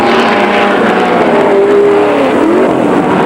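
Porsche and Ford endurance race cars flat out down the long straight at the 1969 Le Mans 24 Hours, a loud continuous engine roar with a pitch that climbs and then drops sharply as a car passes close.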